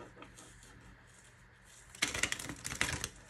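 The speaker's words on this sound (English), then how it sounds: "I prefer to shuffle the other way" A deck of tarot cards being shuffled by hand: after a quiet stretch, a run of crisp, papery riffling bursts starts partway through and continues to the end, close and fairly loud.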